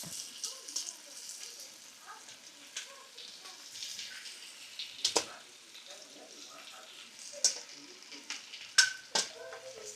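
Guyanese catfish eggs cooking in a pot of curry, a faint, soft sizzle with scattered sharp clicks and scrapes of stirring, quiet and intermittent.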